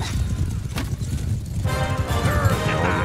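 Horses in Mount & Blade 2 thud and clatter in a busy battle scene, hooves mixed with a dense rumble and scattered shouts, loud and close, with a voice partly speaking over it.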